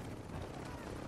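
Helicopter in the video game Modern Warfare 2, a steady rotor drone filling the short moment under talking voices.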